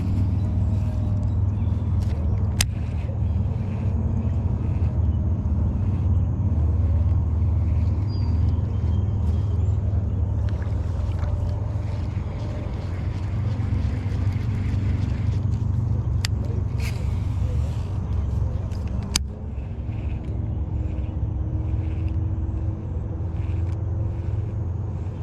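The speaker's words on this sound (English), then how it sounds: "there's just the sounds of the urban landscape. Just cars everywhere," Steady rumble of urban car traffic carries across a city lake in the late afternoon, a continuous low drone with occasional passing vehicles, while someone speaks near the water.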